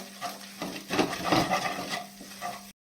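Ground spices are stirred into fried peanut paste in a pan, a close spoon scraping and shuffling through the thick mixture in several strokes over a faint sizzle, ending abruptly.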